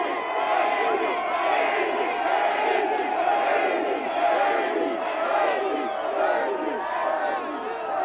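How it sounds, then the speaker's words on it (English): A loud, boisterous crowd of Green Bay fans celebrates the Super Bowl XXXI win, a dense, continuous roar of cheering, whooping and shouting voices filling the street steadily from start to finish. "It's been a very loud and boisterous crowd"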